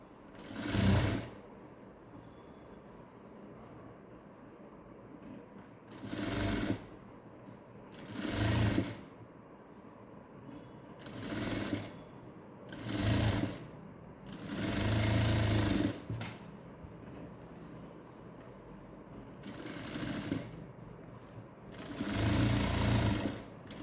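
Sewing machine stitching a close-neck blouse runs in repeated short bursts of fast mechanical whirring, each a second or two long, separated by quiet pauses, close and fairly loud with no talk.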